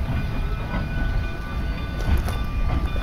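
Cumbres and Toltec narrow-gauge train rolling along the rails, a steady low rumble with faint rhythmic clicking and squeal, continuous and fairly close.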